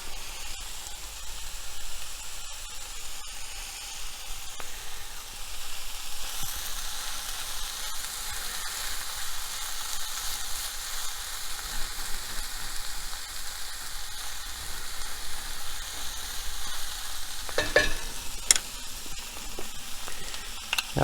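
Peppers frying in a pan for a tofu scramble, giving a continuous close sizzle and hiss with some stirring scrapes and a few clinks near the end, no talk.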